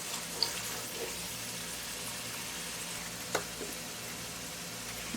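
Tomatoes fry steadily in a pan for Punjabi-style chicken curry, giving a soft, continuous sizzle with a faint clink partway through.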